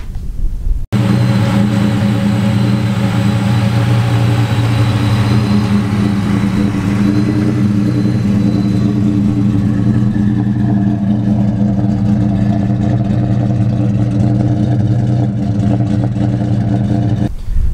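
A supercharged Ford AU car engine drives along steadily and loudly, a continuous close rumble with strong low harmonics holding for the whole stretch after a brief start.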